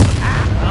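A Bombarda blasting spell goes off in Hogwarts Legacy on PS5, a single loud, dense explosive burst with a booming low rumble that fills the short moment.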